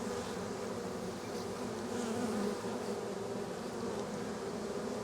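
A dense, steady drone of many honey bees buzzing close by, constant and busy with no pauses.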